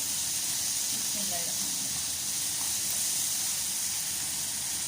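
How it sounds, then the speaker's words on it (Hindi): Onions sizzle and hiss steadily in a hot pan for a Pakistani okra (bhindi) omelette, a continuous close frying texture with a voice speaking over it. "अब हम इसके अंदर अपना प्याज डालते हैं और प्याज को अच्छे से लाइट पिंक कर लेते हैं, भून के फ्राई करके लाइट ब्राउन सा करके"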